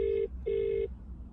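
A phone line rings out while calling a travel lodge hotel, two loud steady electronic ring tones separated by a short gap, then quiet.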